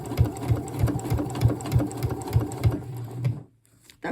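A sewing machine stitches through bulky folded coat fabric, its needle thumping in a quick regular rhythm close by before the motor stops and leaves near silence.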